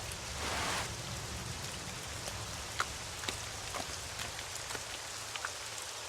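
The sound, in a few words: rain falling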